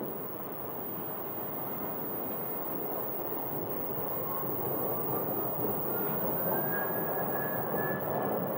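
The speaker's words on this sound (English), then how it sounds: "we have another one actively rolling on the runway" United airliner rolling down the runway for takeoff at Phoenix airport, a steady distant roar of jet engines that swells gradually and holds throughout, with no talking.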